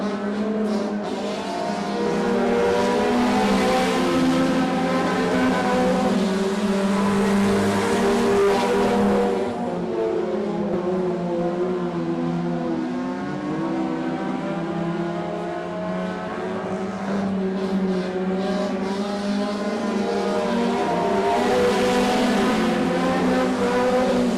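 Race cars roaring wheel to wheel around an oval track, a sustained loud engine drone with shifting pitch as the pack passes, continuous and close throughout.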